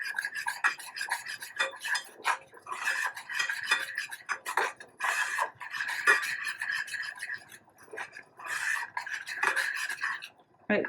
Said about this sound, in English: Just keep stirring.